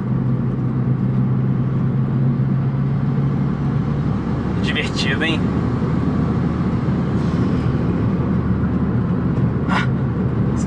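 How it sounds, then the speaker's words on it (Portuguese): Chevrolet Astra Turbo driving at speed, a steady engine and road drone heard from inside the car with a faint turbo whistle, as someone speaks briefly over it. "Olha o barulhinho do turbininha"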